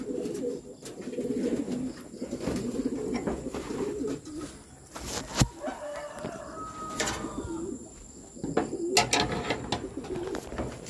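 Racing pigeons at their loft give repeated low coos in bursts, close by, with occasional sharp knocks and flutters between the calls.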